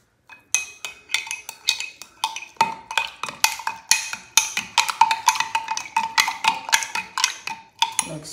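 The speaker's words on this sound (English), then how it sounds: "you mix everything together till it dissolves" A utensil stirs ingredients into warm water in a container, with rapid, repeated close clinks and scrapes in an irregular rhythm for several seconds.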